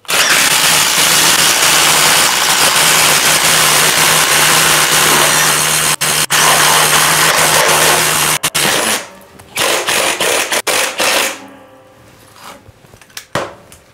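DeWalt XR DCF845 or Milwaukee Fuel Gen 4 impact driver boring with a 7/8 spade bit, a loud continuous hammering rattle for about nine seconds, then stuttering short bursts and stops, close up.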